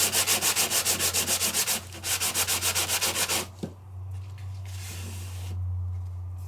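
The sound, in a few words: sanding gadget rubbing film off raised embossing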